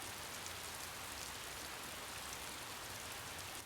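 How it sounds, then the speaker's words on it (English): Rain falls steadily in a scene from the video game Hakuoki Edo Blossoms, an even, dense hiss of rainfall, soft and continuous with no voices. "It's a terrible day for rain."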